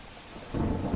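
Heavy monsoon rain in a waterlogged part of Surat, Gujarat, with a steady broadband hiss of downpour that swells suddenly into a deep rolling thunder rumble midway.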